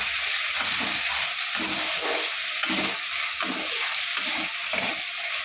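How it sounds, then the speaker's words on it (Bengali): Tomatoes fry in hot oil with spices, a constant close sizzle and hiss broken by rhythmic scraping pulses of stirring, with no voices over it. "ভালো করে এখন লাল লাল করে ভেজে দেবো পুরো টমেটোটা"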